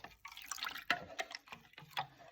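Warm water carrying leftover sourdough starter residue is poured into a bread machine pan, giving a brief, soft splashing trickle with a few drips, heard alone and fairly quiet.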